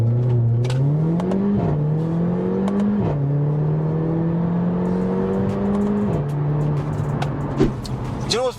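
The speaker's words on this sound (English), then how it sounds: "I only have the audio for the draggy times. So you kind of just have to imagine the A45 doing 20 to 70 mile an hour." A Mercedes A45 AMG accelerates hard from 20 to 70 mph, its engine note climbing steadily through several gears with distinct drops at each upshift, loud and close from inside the car.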